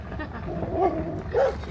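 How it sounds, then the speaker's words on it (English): A dog outdoors in a small, poor town gives two short barks about half a second apart, at moderate distance over outdoor background noise. "Well, there's a dog."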